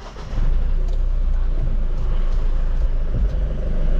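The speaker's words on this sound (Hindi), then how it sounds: "फिलहाल भाई जा रहे हैं गाड़ी को स्टार्ट करके चलाने के लिए" A Mahindra Bolero Maxx BS6 pickup truck engine turns over and settles into a steady, rumbling idle close by, with no talking.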